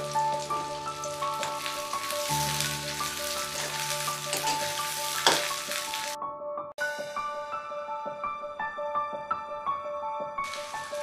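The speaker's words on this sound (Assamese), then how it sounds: "তেল গৰম হৈছে আমাৰ এতিয়া পিয়াজ দিম জলকীয়া কেইটাও দি দিছোঁ" Onions and green chilies fry in hot oil for a Nepali chutney, giving a steady crackling sizzle close by that runs the whole time, with a few faint knocks and no voices.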